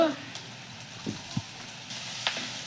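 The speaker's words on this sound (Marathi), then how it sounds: "थोडंसं कांदा मी जास्त पण नाही थोडासा परतून घेणार आहे" Chopped onion sautés in a pan for appe, a faint, soft sizzle with a few light stirring taps.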